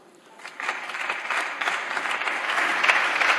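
A crowd claps steadily, the applause swelling from a quiet start and holding strong throughout, with no voices above it.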